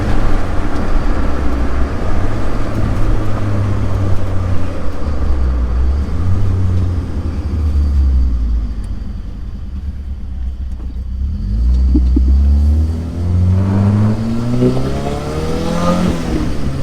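Turbocharged engine in a modified Barbie Tracker accelerating, a loud continuous rumbling drone that rises in pitch toward the end as revs climb, close and alone with no talk.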